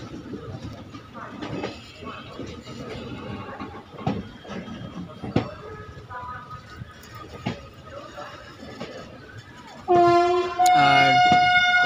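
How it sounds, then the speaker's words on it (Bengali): Malda Town–Katihar passenger train pulling out of Malda Town station, uneven rumbles and knocks with people talking in between, then a loud sustained horn blast near the end. "আমাদের ট্রেন ছেড়ে দিল এখন মালদা টাউন স্টেশন থেকে।"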